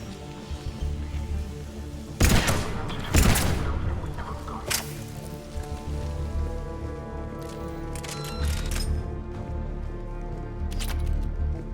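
Scattered sharp gunshots crack over a steady droning soundtrack in the video game Mass Effect 3, with a loud burst of shots early on and fainter pops later.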